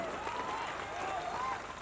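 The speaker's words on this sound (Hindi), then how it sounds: "पीछे तक आपकी तालियों का शोर पहुंचना चाहिए मुझ तक" A mushaira audience applauds steadily, the dense clapping washing through the hall while a voice carries on over it.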